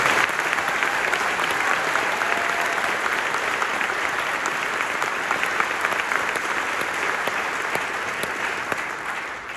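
Sustained applause from a band concert audience fills the room, steady and dense throughout with no talk over it.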